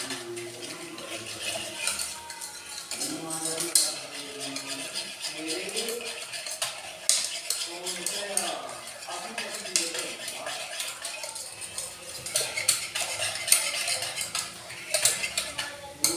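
Spoon mixing green chilies into kadhi in a metal pot, a steady run of clinks and scrapes against the pot, close and continuous, with a voice talking faintly underneath at times.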